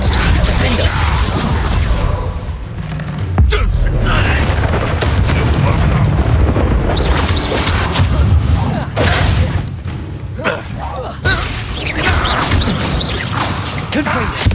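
Fire-spell explosions and combat in Hogwarts Legacy, dense repeated booms and crashing thuds over a busy, loud battle din with a voice shouting spell names throughout.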